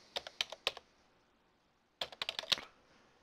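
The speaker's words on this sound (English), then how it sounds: "And then I'm going to type in the password." Two quick bursts of computer keyboard typing as a password is entered, a handful of crisp close key taps in each burst separated by a silent pause.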